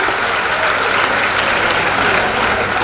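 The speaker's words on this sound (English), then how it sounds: "you can clap for yourself now, and you can cheer" Graduates at a college convocation clap and cheer together, a loud, dense, continuous wash of applause filling the hall without a break.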